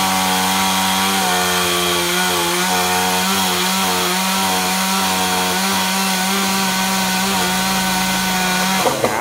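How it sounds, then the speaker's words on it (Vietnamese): A chainsaw cuts through a large branch of a huge xà cừ (African mahogany) tree near a market, running loud and steady close by with a constant engine drone and shifting load as the blade bites, cutting off abruptly near the end. "Rồi chú mình cưa nhánh to đó luôn."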